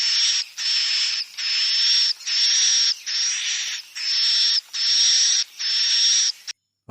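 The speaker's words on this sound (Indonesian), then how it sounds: "Bisa dipastikan bahwa suara tersebut adalah suara anakan" Recorded swiftlet chick calls, likely a playback, sound as eight buzzy, hissing bursts in a steady rhythm, each close to a second long with short gaps, loud and clear with no talk.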